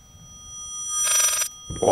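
Telephone ringing in the horror video game Layers of Fear: a harsh, shrill electric bell rings for about half a second, then stops, with a low rumble and a louder knock near the end.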